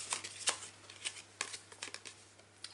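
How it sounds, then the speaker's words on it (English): A tarot card deck being shuffled by hand, with crisp papery riffles and slaps arriving in uneven bursts, quiet and close with small gaps between them. "So I'm going to shuffle the tarot deck"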